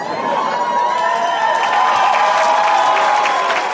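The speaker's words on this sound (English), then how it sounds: "Already getting a round of applause." Audience applause at a stand-up comedy set, a steady, full crowd clapping with some cheering mixed in throughout.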